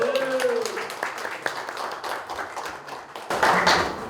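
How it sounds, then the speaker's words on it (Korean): Audience at an exhibition opening ceremony breaking into applause, scattered claps and taps at first, then a louder burst of clapping near the end; voices are faintly heard beneath. "우리 이 자리에 모두 참석한 모든 분들이 한번 뜨거운 박수로 시작했으면 좋겠습니다."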